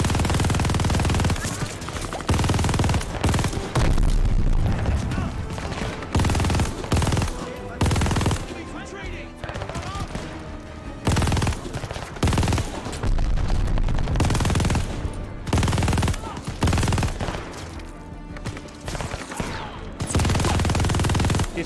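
Turret machine gun fire in Call of Duty Vanguard, long loud sustained bursts broken by short pauses, close and dominant over other game noise.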